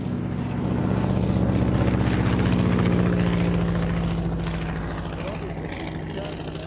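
Propeller aircraft at an air show pass overhead in close formation, some flying inverted; a loud droning engine roar swells and fades across the pass, with the low propeller hum steady throughout and faint voices beneath.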